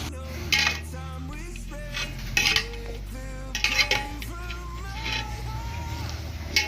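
A spoon scrapes and clatters in a pot of papaya, ridge gourd, fish and potato curry as it is mixed, in several bursts of stirring with tonal voice-like sounds in the background.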